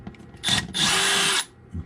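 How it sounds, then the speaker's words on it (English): A power drill drilling a hole in a wall for a wall anchor whirs in two short bursts, a quick rev followed by a longer steady drilling run, close and loud. "When you drill a hole, you don't want it any wider than the anchor"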